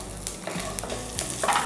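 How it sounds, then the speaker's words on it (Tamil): Garlic cloves, ginger, peppercorns and spices dry-roasting in a kadai for an egg gravy, with a steady soft sizzle and scraping stirs throughout the short stretch, no voices. "நல்லா வாசனை வர வரைக்கும் இதை நல்லா வறுத்துருங்க."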